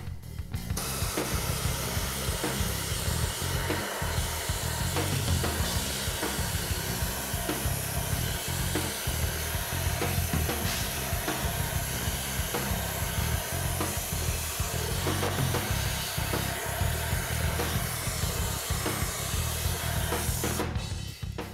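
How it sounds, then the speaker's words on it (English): A continuous loud hissing spray with a rough, blowing roar runs unbroken for a long stretch, close and steady throughout, from an air blower spraying a soap mixture. "I'm gonna spray it off with a little soap, rinse it off"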